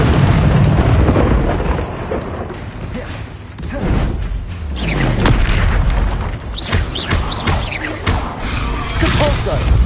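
Spell explosions from the Expulso blast in Hogwarts Legacy, a magic duel in a video game: loud booming bursts and rumbling impacts recur throughout over dense game effects, with a voice shouting spell names in between.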